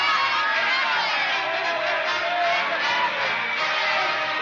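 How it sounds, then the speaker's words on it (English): Crowd yelling at a political rally in an old radio drama, a dense, steady roar of many voices cheering and shouting at close range throughout, with no pauses. "Haven't you ever been to a political rally before? They'll yell at anything."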